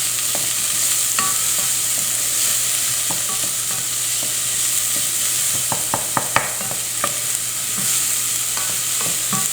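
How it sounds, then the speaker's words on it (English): Carrots and celery for a mirepoix sautéing in a pan, a steady close sizzle with occasional sharp clicks and scrapes of stirring throughout. "add the rest of our mirepoix, our carrots and celery, and saute that up just for a little bit"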